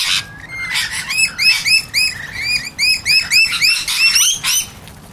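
Rainbow lorikeets at a bird sanctuary give a rapid, overlapping stream of shrill chirps and screeches, close and loud, with repeated bursts running throughout and no talk.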